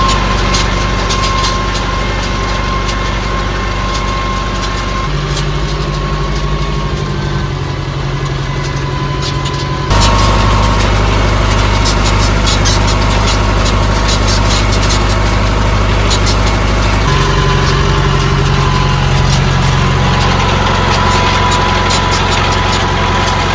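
A farm tractor pulling a hay tedder in 2nd gear drones loudly and without a break, a steady mechanical rumble with a shift in pitch partway through.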